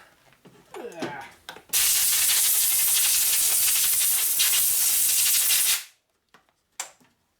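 A compressed air line blasts in a loud, continuous hiss for about four seconds while cleaning parts from a 1976 Harley shovelhead 4-speed transmission rebuild, with a few quieter shop clatters before and after.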